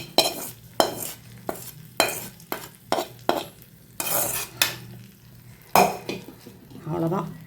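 Hot tempering with curry leaves, poured from a small pan into peanut chutney: repeated metallic clinks and scrapes of a spoon against the pan, with bursts of sizzling in between, close up.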